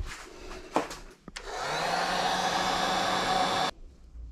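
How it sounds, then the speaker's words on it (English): A heat gun blows on a Honda Civic FK2 intercooler pipe, a loud steady whooshing hiss that starts after a few clicks and runs for about two seconds before cutting off. "let's heat that up and have a look now"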